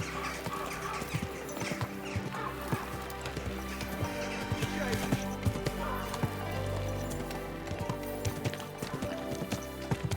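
Horse hooves clip-clop in a steady, continuous rhythm in the video game Kingdom Come: Deliverance 2, over a busy background of tonal music and ambient noise.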